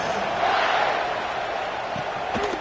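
Stadium crowd roaring steadily in the NCAA 26 college football video game, a dense continuous wash of cheering that swells slightly early and holds, with faint voices and scattered shouts near the end.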